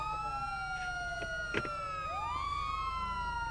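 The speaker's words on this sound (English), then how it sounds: "we need a siren check" Several police car sirens wail together in the video game GTA 5, overlapping rising and falling tones sounding continuously at moderate distance, with no talk.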